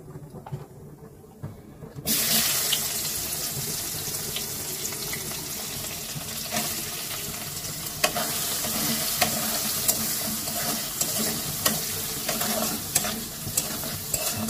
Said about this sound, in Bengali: এটা আমি ভালো করে ভেজে নেব। নিয়ে পেঁয়াজ দিয়ে দেব।